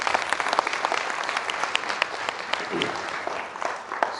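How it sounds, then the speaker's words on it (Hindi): Loud audience applause at a leadership training program, a dense, steady roar of many hands clapping with sharper individual claps standing out now and then. "जोरदार ताली होनी चाहिए एक बार।"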